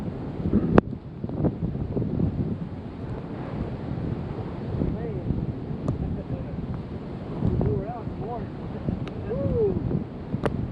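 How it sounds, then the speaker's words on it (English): Storm wind blowing at roughly 75 to 80 mph at sea, heard as a continuous low roar and buffeting against the microphone with rushing water beneath, faint voices briefly audible under it. "I think the wind speed is probably 75 or 80 miles an hour sustained."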